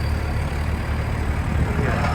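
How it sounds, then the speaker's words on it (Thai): Tractor arriving, a steady low engine rumble that is continuous and moderately close, with faint background noise and no clear talking. "พี่น้องครับรถไถมาแล้วครับผม"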